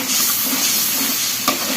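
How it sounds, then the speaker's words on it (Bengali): Spices being sautéed in a pan for beef curry, a steady close sizzle and frying hiss with soft stirring scrapes and one brief sharp clink near the end. "এপাশে গরুর মাংস রান্নার জন্য মশলা কষিয়ে নিচ্ছি"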